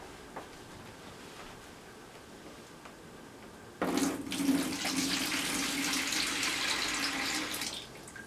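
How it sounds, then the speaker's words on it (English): Water from a spill bucket poured into a sink after shell scrubbing, a steady rushing splash that starts abruptly midway after near silence and runs loud and close for several seconds. "I think I'm ready to pour my spill bucket water into a sink"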